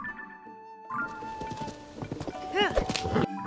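A horse's hooves clip-clop in Zelda: Tears of the Kingdom, steady rhythmic steps under in-game music and chimes, with a bright, swooping effect near the end and no talking.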